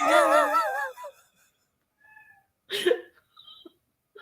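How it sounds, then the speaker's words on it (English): A loud, wavering cat meow opens, followed by a couple of fainter, shorter mews after brief silences. "Can you hear Annie meowing"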